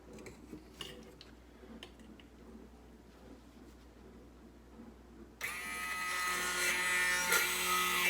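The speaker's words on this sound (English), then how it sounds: "I'm going to work on blending this." A blender starts abruptly after a few seconds of quiet handling noise and then runs at a steady, loud whir, blending a chunky fermented hot sauce.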